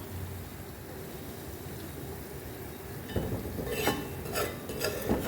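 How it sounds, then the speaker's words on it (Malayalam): A spoon stirs a thick curry in a pan on the stove, oil just separating. A faint steady hiss for most of the stretch gives way to soft scraping strokes near the end. "ഇതിങ്ങനെ ഇളക്കി കൊടുക്കണം, അല്ലെങ്കിൽ അടിക്ക് കരിച്ചിൽ വരാതിരിക്കുക"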